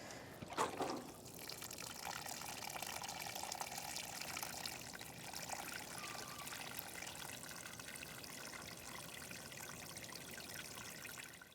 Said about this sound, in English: We will give a good amount of water, and you'll see coming out of the tube when enough is enough.